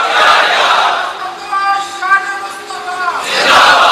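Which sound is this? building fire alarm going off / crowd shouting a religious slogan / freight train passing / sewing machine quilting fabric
crowd shouting a religious slogan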